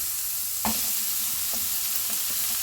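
Onion fries in a pan for a siopao pork asado filling, a steady sizzle and hiss with a few soft clinks of stirring.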